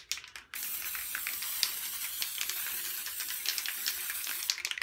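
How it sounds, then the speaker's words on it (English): Black marbleizing spray paint hisses from an aerosol can in one steady, close burst lasting several seconds, starting abruptly after a brief pause and cutting off at the end, with no talking. "I'm gonna get two things of marbleizing spray. One in silver, one in black. First we're gonna do black."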